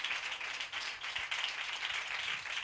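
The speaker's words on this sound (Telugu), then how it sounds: "కొట్టు చప్పట్లు గట్టిగా, ఇంకా గట్టిగా." An audience at a religious sermon clapping together, a dense, fairly faint patter of many hands with a loose rhythmic pulse, steady throughout with no speech.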